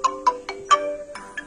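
A phone ringtone plays a clean, bright electronic melody of short repeated tones, loud and close with no voices over it.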